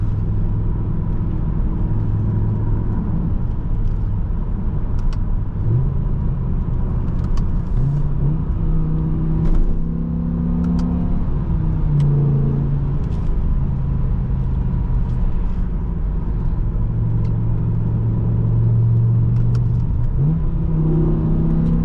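A 2007 BMW M6 with a V10 and SMG gearbox revs and downshifts from inside the cabin, its loud engine note climbing and dropping in pitch through repeated gear changes over a steady road rumble.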